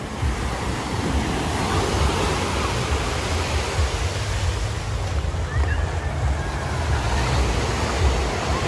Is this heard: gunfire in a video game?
no